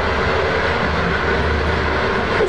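Interior of a sleeper train running through the Chinese countryside on the way to Zhengzhou: a steady, loud, broadband rumble and rush of the carriage in motion, continuous throughout with no voices.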